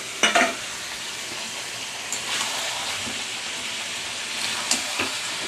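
Potatoes tipped into a hot pan for chicken curry, with a few sharp splashes and clatters at the start, then a steady hiss of frying with occasional stirring knocks.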